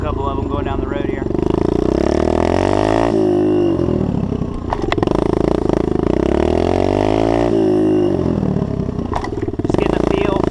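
A pit bike rides back and forth down a road, its small engine droning steadily and loudly, easing off in two dips as it brakes, with talking over it.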